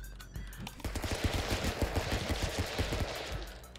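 Rapid automatic-sounding gunfire in the video game Stick Fight: The Game, a fast, steady stream of loud shots that starts after a brief lead-in and keeps going without a break.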